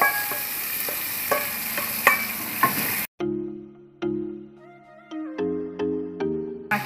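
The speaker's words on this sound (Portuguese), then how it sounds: "Uma cebola picada. A gente vai deixar fritar aqui um pouquinho." Chopped onion frying in margarine in a pan gives a steady, fairly loud broadband sizzle for about three seconds, then stops abruptly and gives way to a sequence of tonal, meow-like notes.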